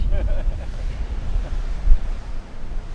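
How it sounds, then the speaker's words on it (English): A strong gust of wind buffets the microphone outdoors on Oahu, a dense rumbling roar that swells and peaks midway before easing, with distant surf-like wash beneath. "Let's wait for that gust to finish."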